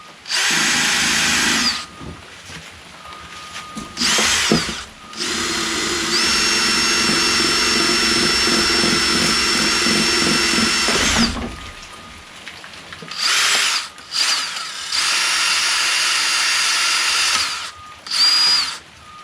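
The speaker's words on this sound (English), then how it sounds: "Just gonna grind this a little bit, make it cleaner." A power grinder cleans a black streak off the flywheel of a Toro Recycler lawnmower with a Kohler XT675 engine, running loud and steady for several seconds, then in shorter on-off bursts, close up with no talk.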